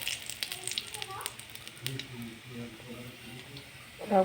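Mustard seeds sizzle and crackle in hot oil alongside dried red chillies, tempering for a sour dal; a steady close hiss with faint pops runs under a voice.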